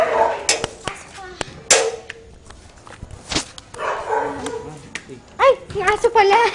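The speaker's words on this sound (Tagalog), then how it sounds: "Yung aso pala." A dog barking and yipping indoors in a home, several sharp barks spread out amid footsteps, with people talking nearby.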